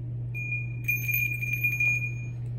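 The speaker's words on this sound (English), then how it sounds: "So when I sound the chime," A meditation chime struck once, giving a clear, bright ringing tone that sustains and slowly fades over a steady low hum, with no voices.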